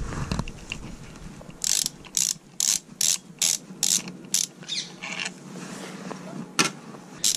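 Ratchet tool undoing the bolts on a Karcher K4 pressure washer pump, with about ten sharp clicking bursts in an irregular rhythm, close and clear in a quiet room.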